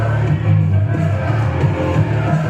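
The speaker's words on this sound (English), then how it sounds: "you can hear the crowd here" Wrestling show crowd at a UK event, a loud continuous roar of cheering and shouting voices, steady and dense throughout with no single voice standing out.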